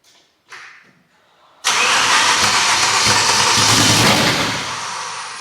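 A BMW M3 V10 fitted with 10-into-1 headers fires up on its first start: a couple of brief cranking bursts, then the engine catches into a loud, raspy, sustained roar that settles slightly toward the end, recorded close with no talk over it.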